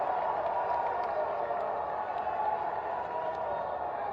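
A large crowd at an outdoor political rally attended by India's Defence Minister Rajnath Singh claps in a steady, even wash of applause that holds throughout.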